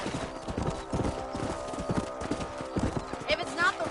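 Horses clip-clopping at a quick pace in Red Dead Redemption, hooves thudding steadily and close, with a brief whinny near the end.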